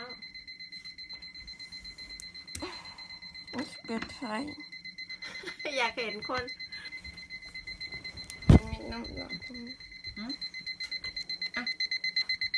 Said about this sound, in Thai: ตั้งนาฬิกาปลุกแต่เช้า